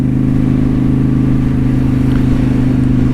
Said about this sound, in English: The exhaust gets a little louder